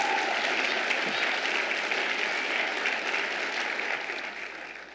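An audience at a city's State of the City address claps in a sustained, even wash of applause that fades slightly toward the end, with no speech on top.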